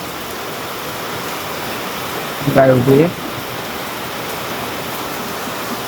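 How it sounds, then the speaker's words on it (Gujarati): Heavy rain pours down in a steady, dense hiss over a yard where a cow stands sheltering, with a voice speaking briefly near the middle. "કેમેરામાં દેખાતો નહીં બાકી અવાજથી તમે જોઈ શકો વરસાદ ફૂલ થઈ ગયો."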